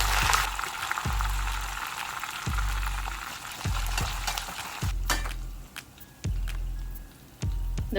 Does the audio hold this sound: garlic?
yes